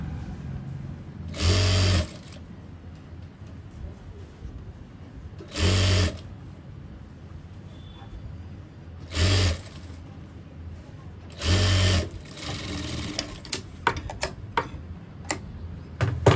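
A sewing machine stitches the seams of a 12-panel palazzo in four short, loud bursts of about half a second to a second each. Quiet gaps fall between them, and faint ticking and handling sounds follow.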